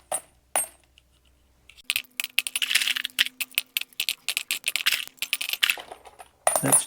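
Brass cartridge cases drop one after another into a tumbler barrel, making bright metallic clinks and rattles in irregular bursts, close and fairly quiet, with short pauses between handfuls.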